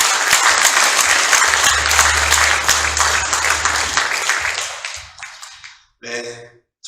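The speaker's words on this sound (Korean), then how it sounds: "한 박수 부탁드립니다" A crowd at a White Cane Day ceremony gives a dense burst of applause that gradually thins and fades, with a low hum underneath and a brief voice emerging at the end.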